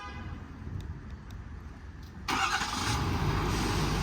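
A 2024 Ford F600 four-wheel-drive service truck with a 6.7 diesel is remote started: a quiet lull, then the engine abruptly catches and settles into a loud, steady, close rumble with no talking.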